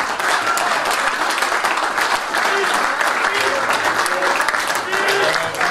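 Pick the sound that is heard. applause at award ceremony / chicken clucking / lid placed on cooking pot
applause at award ceremony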